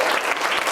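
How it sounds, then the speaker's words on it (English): A brief burst of audience clapping, a dense steady patter of many hands filling the moment at close range with no voices over it. "give yourself a round of applause"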